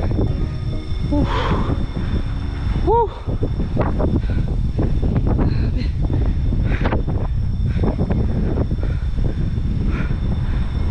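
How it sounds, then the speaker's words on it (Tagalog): Strong wind buffets the microphone at a high point on a climb with a constant low roar, broadband rumble filling the whole stretch, with faint voices and other sounds underneath. "Lakas ng hangin."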